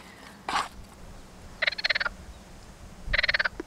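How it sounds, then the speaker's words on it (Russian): A toad croaks at a forest lake in two clear rhythmic bursts of rapid pulsed calls, near and fairly loud, with one short earlier call and quiet outdoor background. "Это жаба, я переживала, что они не объявляются."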